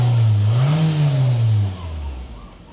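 A 2010 Toyota Camry engine, just fitted with a new timing chain, guide and tensioner, revs up loudly and steadily, its pitch rising, holding, then dropping back toward idle, close by with no talking.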